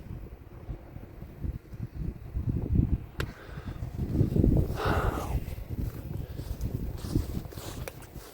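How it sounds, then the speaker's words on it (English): Wind gusting across an outdoor 100 m shooting range, a steady broadband rush with swelling gusts buffeting the microphone, close and fairly loud, with no talk over it. "I don't know if you can hear the wind."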